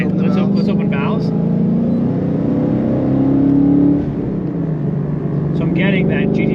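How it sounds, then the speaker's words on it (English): Ford Mustang GT with a valved exhaust opened, rumbling at idle and then revving up and falling back, loud and close, with speech over parts of it. "So I'm getting that GT350 type of sound, especially with how aggressive it is."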